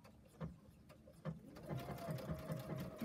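A sewing machine stitches ribbon down the middle of fabric with a steady close whir, broken by a regular pulse of stitch thumps that quickens in the second half.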